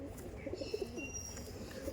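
An aggressive Madrasi pigeon gives soft, low coos in short bursts, fairly quiet and close, with a faint higher whistle-like tone in the background.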